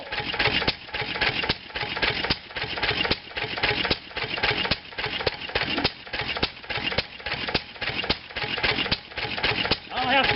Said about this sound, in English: That's the first time this engine's been started.